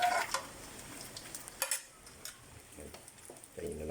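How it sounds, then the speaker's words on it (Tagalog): Tortang giniling fries in oil in a pan, giving a quiet, faint sizzle. Scattered stirring scrapes and light clinks of a utensil against the pan break through it. "piprito na po natin. Sarang na po natin sa kawali."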